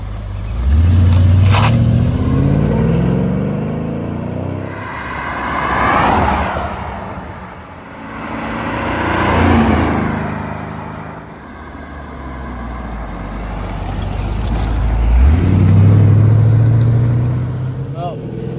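A 1988 Aston Martin V8 Vantage Volante drives past on a road in repeated flybys, the V8 engine swelling loud and near then fading away, with a revving pass at the start and another at the end.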